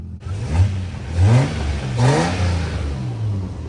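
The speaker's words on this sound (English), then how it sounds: "Now I'm revving it and it's not smoking as much." A Toyota Supra engine revs up several times in a row, each burst rising and falling back to a rough idle, close and fairly loud, with the engine smoking less as it revs.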